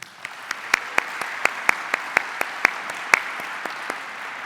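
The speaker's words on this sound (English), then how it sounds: "A round of applause, please." Sparse, evenly spaced claps ring out at a conference, a dozen or so distinct hand strikes in a slow steady rhythm over a quiet hall hush, fading slightly toward the end.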